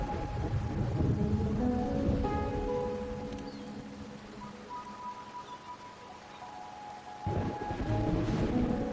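Rain falls steadily with a low rumble of thunder during a rainy night in the video game Wuthering Waves, a dense wash that fades midway, then a louder swell returns near the end, with no speech.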